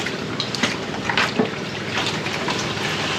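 Water splashes and trickles continuously as concentrates are poured into water in a pan, a close, steady wet rush.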